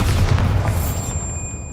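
A booming blast from the Bombarda spell in Hogwarts Legacy, a single loud explosion-like hit that rumbles low and then fades with a lingering tonal ring.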